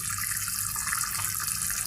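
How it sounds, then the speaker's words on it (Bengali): A little water is poured into meat and potatoes being cooked for khichuri, giving a brief, steady, close-up rush of flowing liquid. "সামান্য একটু পানি দিছি"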